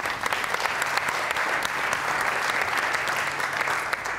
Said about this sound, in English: And I ask you now to join in a round of applause for our keynote speaker, Jacqueline Novogratz from the Acumen Fund.